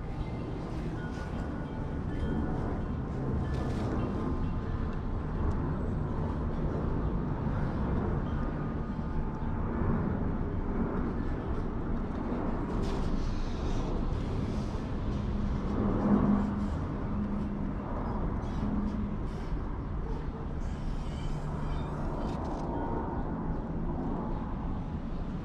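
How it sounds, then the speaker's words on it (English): Commuter flight landing at Burbank airport, heard as a steady broadband roar of engine and airflow rising slightly mid-pass, continuous throughout without talk. "here comes a commuter flight"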